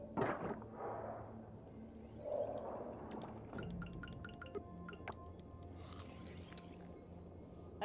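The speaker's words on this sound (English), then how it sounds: "It should make water noises" Soft water sounds in an underwater video game with eels and merfolk: faint drips, liquid squishes and gurgling bubbles over a low, murky ambience. No talking is heard.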